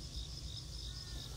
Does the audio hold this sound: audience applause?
no